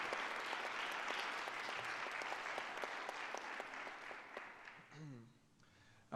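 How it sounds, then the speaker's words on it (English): An audience at a TEDx event applauds the speakers with sustained, even clapping that gradually fades; a brief voice and a short tonal sound appear as the applause dies away. "Can we get a round of applause for our speakers that have gone so far?"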